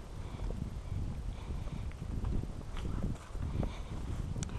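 A horse walking along a countryside trail while being ridden, with soft irregular hoof thuds over a constant outdoor wind rumble, no talking.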